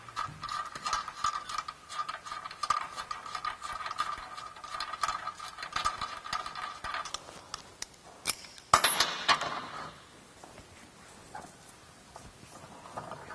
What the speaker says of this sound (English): We're going to remove the 2 bolts here in the front and the 3 and the 2 going down the side here.